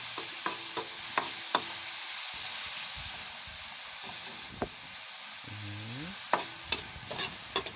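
Tomatoes sautéed in a pan over a soft steady sizzle, with a spoon tapping and scraping against the pan at irregular intervals, heard close with no talk.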